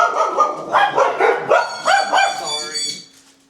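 A dog barks indoors in a quick series of loud, close yips and barks, roughly a dozen in rhythm, then trailing off into a faint whine.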